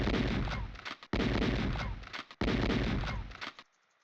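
A gun fires in the video game Moonblood: three long, loud bursts of shots follow one another with brief gaps, then the clip drops to near silence.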